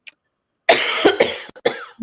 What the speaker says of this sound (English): I am coughing.